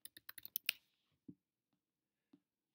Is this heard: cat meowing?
no